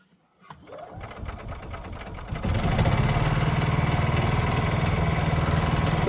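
A revived golf cart's small engine catches and then runs steadily with a loud, fast, buzzing putter that holds an even pace once it settles.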